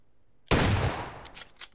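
A single sharp gunshot in the video game PUBG cracks out loud and close after a quiet moment, followed by a decaying echo and a couple of fainter follow-up pops.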